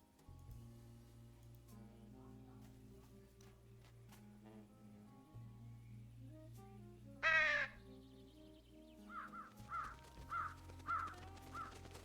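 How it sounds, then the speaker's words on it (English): Crows cawing in the video game Truberbrook: a loud burst of harsh caws, then a series of evenly spaced calls, over a low sustained musical drone with no talking. "It's a bird call."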